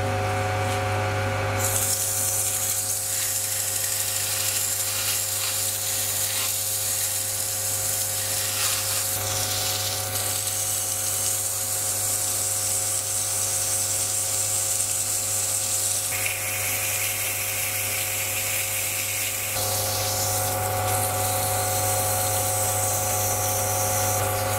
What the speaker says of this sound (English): I'll give it a quick clean up to get rid of some of the machining marks